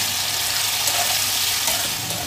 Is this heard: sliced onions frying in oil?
yes